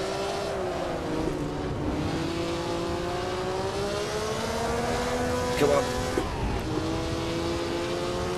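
A 1957 historic Formula 1 car in a racing video game driven at Oulton Park, its engine droning loud and steady with pitch rising and dropping through gear changes, and a voice talking over it.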